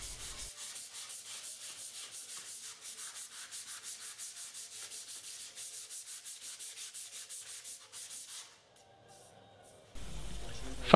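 Sandpaper rubbed back and forth along a pipe in steady, rhythmic strokes for about eight seconds, close and clear, then it stops and a short burst of broadband hiss follows.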